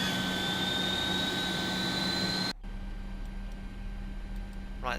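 Simulated IXEG 737-300 engine number 2 spooling up in a flight simulator, a steady broad jet roar with a tonal whine that suddenly drops to a quieter hum with a steady low drone partway through.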